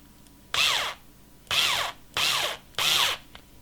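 An electric screwdriver drives a screw into a Tamiya Volvo FH12 Globetrotter model truck in four short whirring bursts, each about half a second, with brief pauses between, close and alone.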